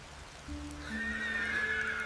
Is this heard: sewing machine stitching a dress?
no